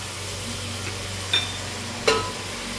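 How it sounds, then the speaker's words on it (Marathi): Finely chopped tomatoes fry in a pan for dum biryani, giving a steady close sizzle broken by two brief scraping clicks of stirring. "2 टोमॅटो बारीक कापून घेतलेले ते टाकून घेऊया"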